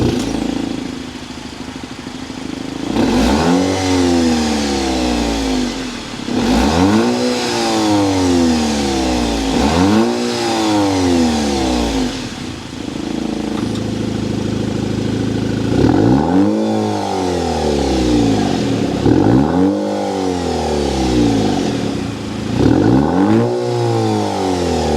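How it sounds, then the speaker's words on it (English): A 2023 Maserati Grecale GT with a Turbo 4 engine revs repeatedly, each blip swelling and falling in a regular rhythm, close and fairly loud, with a brief pause before a second run of revs. "start it up so you can hear that exhaust note"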